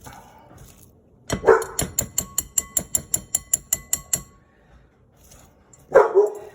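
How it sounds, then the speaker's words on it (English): Household dogs bark in a steady, rapid volley of about fifteen evenly spaced barks, fairly close and loud, with a louder burst before and after and no talking. "the dogs are gonna bark"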